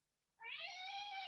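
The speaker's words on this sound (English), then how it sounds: "Pardon my cat." A house cat lets out one sustained, fairly loud meow that starts abruptly and holds a steady tone for about a second in an otherwise quiet room.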